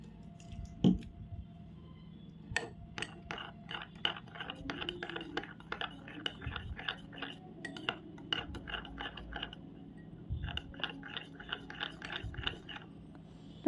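Homemade no-glue water slime being mixed gives soft, rapid clicking and squelching pops in busy bursts with brief pauses, close and fairly quiet.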